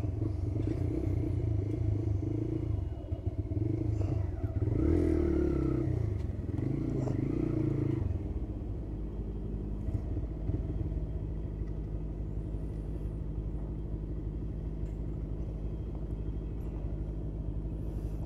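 A TVS Raider 125 motorcycle engine drones close by on a test ride, its pitch rising and falling as it revs early on, then settling into a steady low idle.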